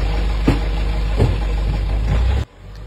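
A black pickup truck's engine runs loud and close, a steady low rumble with a few knocking bumps, then cuts off abruptly near the end.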